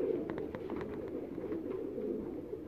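A Sialkoti cross pigeon on a Faisalabad rooftop gives soft, low, repeated coos, faint and close, with no talk.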